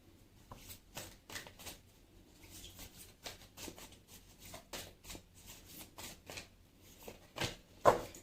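Guidance cards being shuffled for a reading, a soft close-up run of rapid riffling flutters and light slaps with a brief pause, ending in a sharper snap, no voices.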